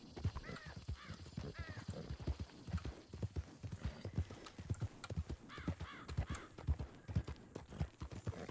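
Horse hooves clip-clopping in the WildRP video game, an irregular run of sharp hoof strikes on hard ground with occasional whinnies and distant bird caws mixed in, close and clear.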